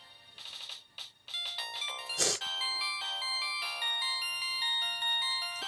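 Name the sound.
Samsung SGH-X450 phone ringtone playing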